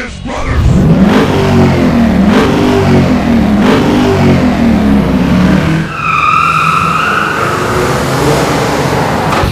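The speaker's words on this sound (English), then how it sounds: "Gentlemen, start your engines" Race car engines rev hard in a series of rising and falling surges, loud and close, followed by a higher whining pass near the end.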